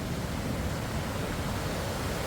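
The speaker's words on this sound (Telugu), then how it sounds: "వాటర్ ఫాల్ సౌండ్ వింటానే మస్తు అనిపిస్తుంది." Roaring waterfall near the Baba Harbhajan Singh memorial outside Gangtok, Sikkim: a steady, dense broadband rush of falling water that fills the whole stretch at even loudness, with no voices over it.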